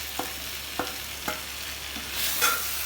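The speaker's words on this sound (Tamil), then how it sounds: "நல்லா வதங்கின பிறகு சிக்கன் லைட்டு ஃப்ரை பண்ண சிக்கனை போட்டு" Chicken fries lightly in a clay pot after the garlic and butter have softened, with a few sharp stirring scrapes at steady intervals, then a brief surge of sizzling near the end.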